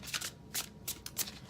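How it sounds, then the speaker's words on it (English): An Angel Tarot card deck being shuffled by hand: four quick, soft riffling bursts of crisp paper flutter at an even rhythm, close and fairly quiet, with no voices. "So I'm shuffling the Angel Tarot card deck this is a Doreen Virtue deck."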